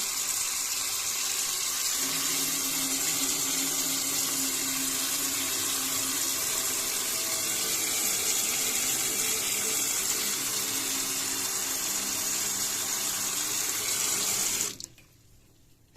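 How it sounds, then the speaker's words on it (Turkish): Tap water pours steadily into a bathroom sink that had been clogged and now drains freely, a continuous close hiss and splash lasting about fifteen seconds before the flow cuts off abruptly. "Bakın sizin için bilerek açtım suyu."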